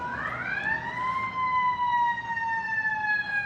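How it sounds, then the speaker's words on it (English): An emergency siren wails in a long rising then slowly falling tone, clear and moderately close over low traffic rumble, typical of an ambulance or police vehicle passing. "they have sirens play in the background of ambulances or police vehicles"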